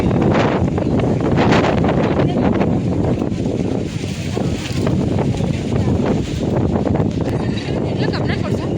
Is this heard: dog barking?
no